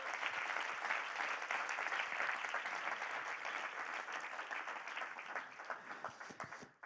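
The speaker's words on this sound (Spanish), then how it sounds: "Dele otro aplauso a Jesucristo." A church congregation claps in sustained applause during a sermon, a dense wash of many hands fairly loud and steady before slowly thinning out.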